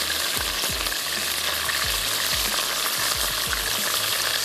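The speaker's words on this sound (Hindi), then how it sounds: "थोड़ा सा फ्राई कर रहे हैं तो अच्छी सी क्रिस्पी सी हमारी ये हो जाएगी चिकन" Cornflour-coated chicken pieces fry in a pan, giving a dense, continuous close sizzle broken by repeated low thumps and scrapes of stirring, with no voices.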